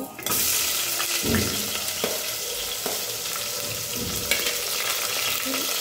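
Onions and cumin seeds hit a teaspoon of hot oil in a kadai, setting off a loud, steady sizzle with occasional stirring scrapes, close and continuous.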